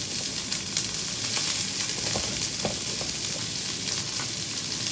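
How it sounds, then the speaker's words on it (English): Peppers, onions, celery and carrots sauteing in butter in a saute pan give a steady, dense sizzle and crackle throughout, close and continuous with occasional stirring sounds and no voices. "we're going to lightly saute them off in the saute pan"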